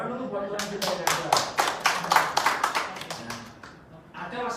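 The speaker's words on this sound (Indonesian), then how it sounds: "Tepuk tangan dulu buat Tuhan kita yang ada." A church congregation claps in a brief burst of applause, dense and fairly steady hand claps under a faint murmur of voices, fading out after about four seconds.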